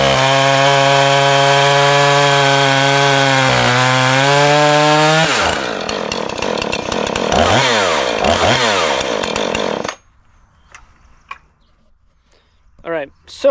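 Husqvarna 435 chainsaw running at a steady high whine, then biting into cherry wood with a loud, rough, fluctuating cutting roar for several seconds, before the engine drops away to near silence with a few faint clicks and knocks at the end.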